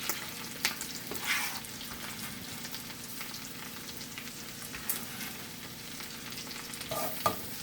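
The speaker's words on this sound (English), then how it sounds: "we're going to put in the chopped up garlic." Chopped garlic sautéing in a pan over medium heat gives a faint, steady sizzle with occasional soft stirring scrapes and a light clink near the end.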